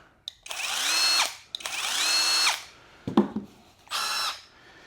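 A Milwaukee M12 Stubby cordless impact wrench's motor whirs up loudly in three long bursts, with brief clicks and a short rattle between runs, close by.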